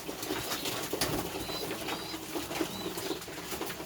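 Pigeons in a coop, soft cooing and brief bursts of wing flapping at close range, fairly faint and continuous, with no voices.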